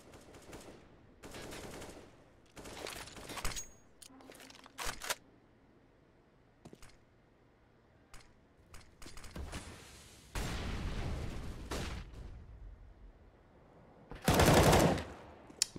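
Gunfire in the game Counter-Strike on the Vertigo map during an ESEA MDL match: scattered single shots and short automatic bursts, with a louder sustained spray near the end, over quiet game ambience.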